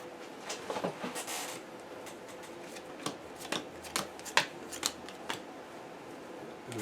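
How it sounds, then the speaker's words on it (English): A deck of cards for the Aeons End board game is shuffled by hand in a quiet room, giving repeated crisp riffling bursts and snaps near the microphone, with no talking. "This is pretty much the only deck that we're going to shuffle."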